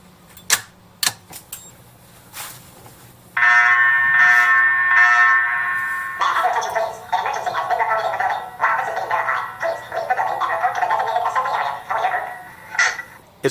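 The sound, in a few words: alarm system test sounding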